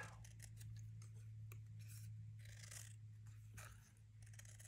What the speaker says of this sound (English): if I cut it out of this tag